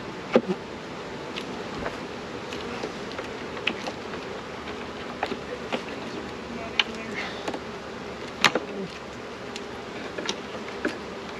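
Honey bees buzzing around an opened wooden hive box, a steady dense hum close by with occasional louder bees zipping past the listener, no talking.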